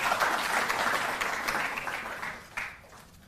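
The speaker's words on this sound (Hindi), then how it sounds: "मेरा अनुरोध एक बार जोरदार तालियों से आप उनका अभिनंदन करें।" A crowd at a ceremony honouring national athletes applauds to welcome Delhi's chief minister, with dense, steady clapping that gradually thins and fades near the end.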